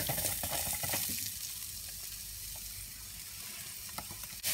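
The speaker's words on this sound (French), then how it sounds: "on va venir verser ail, oignon, gingembre" Garlic, onion and ginger fry in a pan, a loud burst of sizzling at first that settles into a softer, steady crackle.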